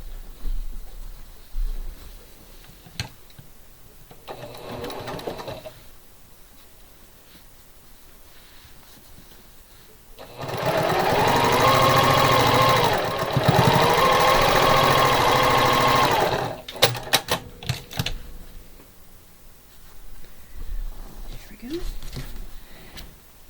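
Home sewing machine stitching quilt block rows together, a steady motorized whir running for several seconds in one continuous burst, with quiet talk before and after.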